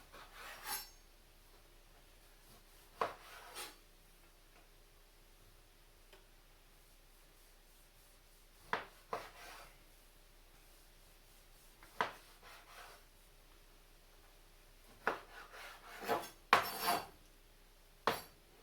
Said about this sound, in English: chop in half, get rid of the end pieces, which I like to call the gout, and then slice them thinly